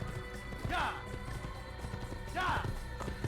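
Two empty coconut halves banged together imitate a horse's hooves, making two short clopping bursts a couple of seconds apart over a steady background.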